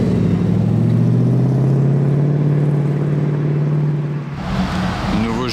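Mercedes G-Class 4x4² fitted with a Brabus exhaust, a deep, loud steady engine drone that holds for several seconds before shifting into a rising rev on a street in Monaco.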